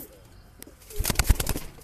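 Pigeons in a high-flyer breeding loft coo and shuffle, with quiet calls early, then a louder close burst of coos and fluttering movement toward the end.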